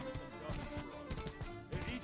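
Horse hooves clip-clopping in the medieval combat video game Mordhau, a steady run of mid-loud hoof beats under game ambience.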